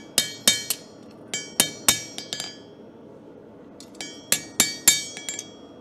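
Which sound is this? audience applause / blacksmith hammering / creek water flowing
blacksmith hammering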